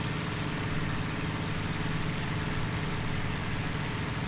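A damaged aircraft engine runs steadily in a flight combat video game, producing a continuous low droning hum at an even level, with no voices.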